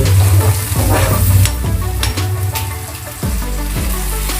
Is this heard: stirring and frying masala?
yes